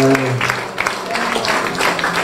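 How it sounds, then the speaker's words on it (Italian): An audience at a public talk with a politician applauds, a broad wash of clapping heard close, mixed with a voice speaking over it at the start. "Mi fa piacere per l'applauso"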